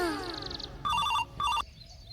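Two quick bursts of an electronic phone ring, close and clear, follow a softer stretch of background noise.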